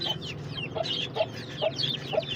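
A black rooster clucks in short repeated bursts, several evenly spaced calls close by, with softer bird chatter in the background and no talking.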